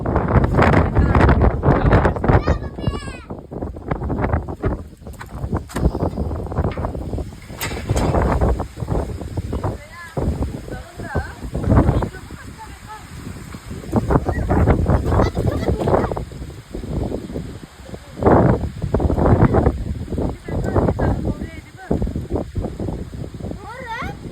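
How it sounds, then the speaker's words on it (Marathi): Strong wind buffets the microphone in heavy low rumbling gusts, with people talking intermittently throughout. "तुला काय वाटतं या वादळवाऱ्याबद्दल"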